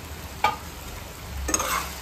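Crispy soybean chilli being stirred in a hot pan, a low steady sizzle with two distinct scraping strokes of a spoon, close by.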